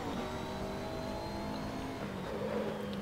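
A McLaren race car in a racing video game holds a steady, fairly loud engine whine with slight shifts in pitch, heard alone without talk.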